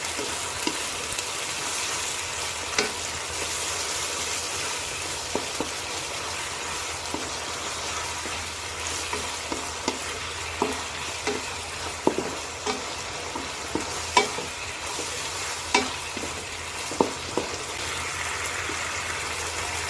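Pork stir-fried with spring onion and basil in a pan over a gas flame gives a steady, close sizzling hiss, broken by scattered sharp clicks and scrapes of the spatula.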